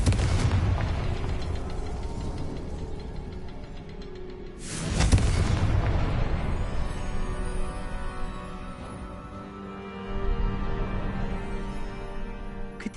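Booming fire-spell explosions from a Harry Potter video game, a sustained roaring blast with a sharp louder burst midway, followed by rumbling and crackling debris, no talk.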